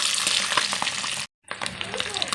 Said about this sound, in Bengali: তেল গরম হয়ে গেছে, এবার ডিমগুলোকে আমি উল্টো দিকে করে ভেজে নেব